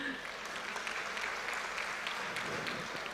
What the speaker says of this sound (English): We want you all to clap.